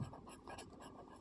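Pen or chalk strokes on a board during a Class 10 maths lesson make a run of soft, quick scratching bursts close by, with no voice over them.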